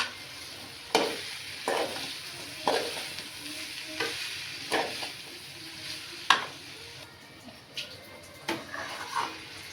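Potatoes are stirred in a sizzling pan for a dry potato bhaji, a spatula scraping and knocking in a regular rhythm, about every second, over a soft constant fry.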